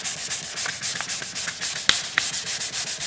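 Rhythmic back-and-forth hand sanding of a plastic bumper cover with fine-grit sandpaper, close and steady strokes with a couple of small ticks, no voices.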